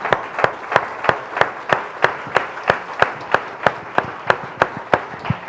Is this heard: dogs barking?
no